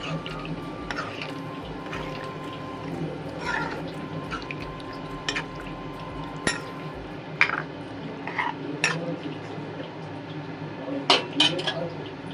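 Boiled mutton head meat is stirred into a cooking pot for thalakari fry, with soft scraping and scattered metallic clinks of a spoon against the pan over a faint sizzling background.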